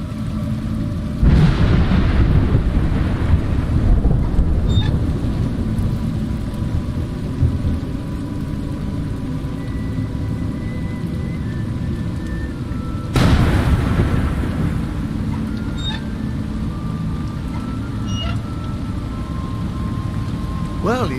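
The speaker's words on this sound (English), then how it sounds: "It's raining." Steady rain in the video game A Juggler's Tale, a constant hiss throughout with two loud thunder crashes, one near the start and another around the middle, each rumbling and fading slowly.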